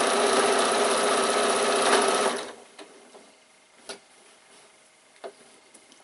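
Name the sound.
sewing machine stitching bag lining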